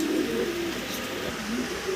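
Bukhara and Maltese pigeons cooing at a pigeon farm, low repeated coos rising and falling across two seconds, fairly close against steady background noise.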